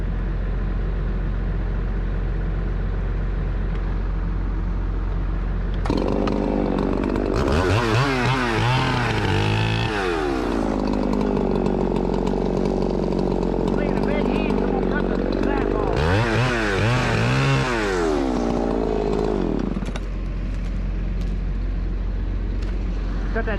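A chainsaw cutting white oak revs loudly in two long bursts, its pitch rising and falling, over steady idling and occasional background voices.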